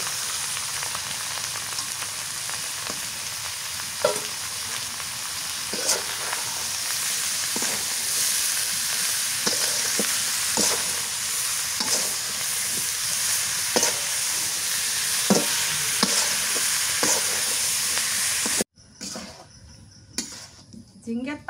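Ridge gourd fries in a pan with turmeric, a constant loud hiss and sizzle broken by regular clinks and scrapes of a spatula stirring, before the sound cuts off abruptly near the end.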